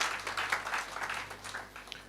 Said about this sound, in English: You can clap, please.